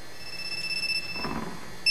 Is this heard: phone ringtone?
yes